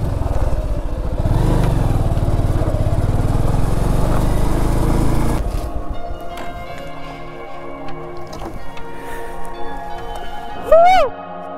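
Motorcycle engine running loud and steady while riding a mountain road up to Bolumalai, then dropping to a lower idle with rumbling and a brief rising whine near the end.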